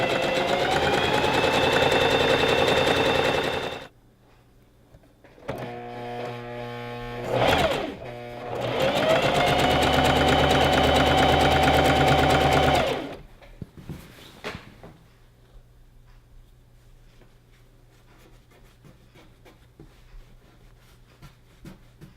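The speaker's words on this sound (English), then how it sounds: "I'm just going to sew it down with a zigzag stitch" Sewing a zigzag stitch on a gathered maxi dress, a sewing machine whirs loudly in two long bursts separated by a short stop-start run and a pause, then gives way to quiet handling clicks and low hum.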